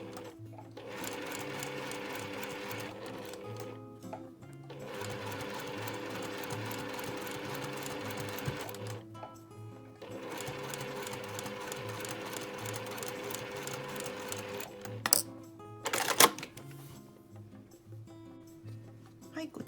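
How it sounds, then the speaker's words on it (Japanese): A sewing machine runs in three long, even bursts with short pauses between them, joining patchwork pieces, close and steady, with a few sharp clicks near the end. "もう一枚もつなげて縫ってしまいます。"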